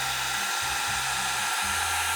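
A hair dryer blows steadily on an alcohol ink painting, its fan hum shifting slightly in pitch as it is angled and moved closer, running continuously up close with no talking.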